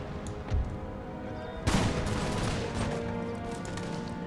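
Musket volleys in an Empire: Imperial Splendour battle crackle at a distance: a rattling volley, a louder crashing one at mid-clip, then scattered shots over a low battlefield murmur.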